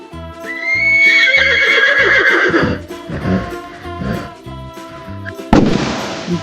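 A horse gives a loud, high whinny that wavers and drops off, followed by snorting and a final sharp burst of sound, close and clear over soft music.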